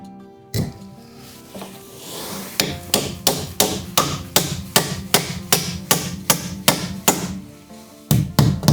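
Steady hammer blows drive a wooden plug into a tongue-and-dado joint to fix a shiki beam in a traditional Japanese carpentry job, about a dozen sharp, evenly spaced strikes, loud and close with no talk.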